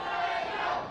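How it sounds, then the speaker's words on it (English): Wrestling crowd at a fast, colorful lucha libre show cheering and roaring steadily throughout, a dense continuous wash of voices that fades slightly at the end. "And the crowd showing their appreciations for the accomplishments of El Fuego del Sol"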